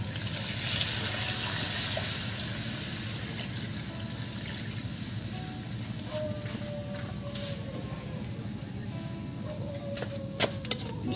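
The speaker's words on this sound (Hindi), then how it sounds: "तो गाइस इसमें अभी पानी डाल देगा" Water is poured into a simmering pork and gourd curry in a village kitchen, a steady rushing wash with faint sizzling and clinks, and no talk.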